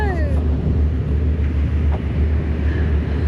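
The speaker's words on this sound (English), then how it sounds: "in this wind, which I don't know what this wind is" Strong wind buffets the microphone on a beach on K'gari, a steady loud low roar that fills the whole stretch, with a brief faint voice near the start.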